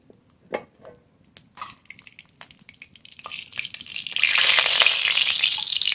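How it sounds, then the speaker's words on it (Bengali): Black cumin seeds drop into hot white vegetable oil in a kadai: scattered crackles and pops give way to a loud, steady sizzle that swells and holds. "কালো জিরে ফোড়ন"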